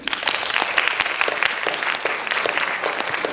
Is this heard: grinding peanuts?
no